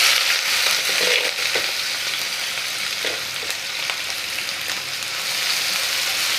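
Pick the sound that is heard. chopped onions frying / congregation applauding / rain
chopped onions frying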